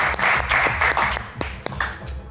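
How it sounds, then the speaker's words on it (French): Studio audience on a French television game show clapping for a contestant named Charlie, a brief burst of moderate applause with a few sharper individual claps standing out as it thins. "Allez, Charlie, on vous applaudit quand même"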